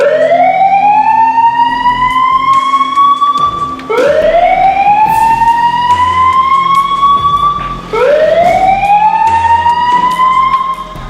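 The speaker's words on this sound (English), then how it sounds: "What you heard there is the emergency alarm tone" A fire station emergency alarm in Trinidad and Tobago gives a loud wailing tone that rises and holds, repeating three times in long sweeps about four seconds each, with no talking.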